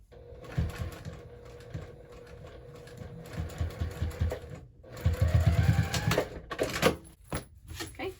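A domestic sewing machine stitches fabric for a hobo bag in short bursts, the motor whirring in runs that stop and restart as the cloth is tugged and refolded between passes.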